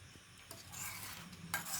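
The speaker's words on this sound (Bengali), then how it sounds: "দইটা আমি ভালো করে এইভাবে মিক্স করে নিচ্ছি।" Yogurt beaten with a spoon in a bowl, a quiet, close, brief swishing stir with a couple of soft scraping strokes.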